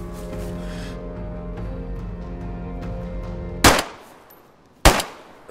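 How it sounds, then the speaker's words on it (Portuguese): Two sharp, loud gunshots in DayZ ring out about a second apart, each with a ringing decay, after a stretch of low humming game background. "Acertei um tiro."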